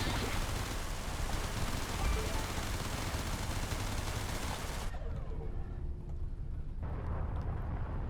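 Ship weapons in Everspace pour rapid fire at a comms hub, a dense, loud crackling barrage that cuts off abruptly near the end and leaves a quieter low hum.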